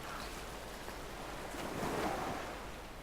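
Water in the video game Brothers: A Tale of Two Sons makes a steady washing, surf-like rush that swells gently in the middle, moderately loud and unbroken, with no talking.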